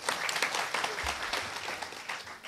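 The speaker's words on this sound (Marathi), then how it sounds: "जोरदार वाजवाच टाळ्या." Dense, sustained applause from an audience at a devotional kirtan gathering, loud and continuous across the short moment.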